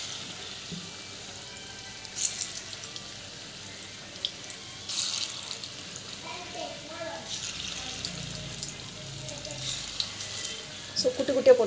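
Curd vada batter drops into hot oil and fries, a soft bubbling sizzle with scattered louder crackles and splashes that swell near the end, under occasional speech.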